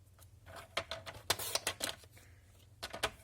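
Paper scraps cut for a handmade pop-up album, giving a series of faint, close, crisp snips and rustles in irregular clusters.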